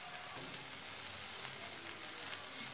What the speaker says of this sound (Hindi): इसमें थोड़ा सा बटर डालेंगे और इन कॉर्न्स को 2-3 मिनट तक अच्छी तरह से भूनेंगे।